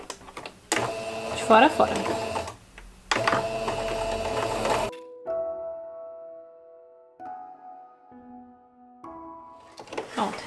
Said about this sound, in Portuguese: E passo uma costurinha aqui também